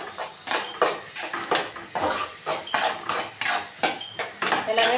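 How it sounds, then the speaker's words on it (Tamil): Vegetables and beans being stirred in a metal cooking pan, a steady run of rhythmic scraping and clinking strokes from a utensil, close and clear with no talking. "எல்லாத்தையும் கொட்டி நம்ம கிண்டிக்கலாம்."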